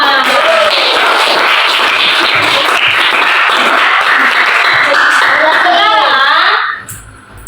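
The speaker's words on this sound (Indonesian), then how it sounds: "Oke, tepuk tangan buat kita semua" A group clapping hands together in a classroom-style session, a dense, loud burst of applause with a few voices mixed in, lasting several seconds before cutting off abruptly near the end.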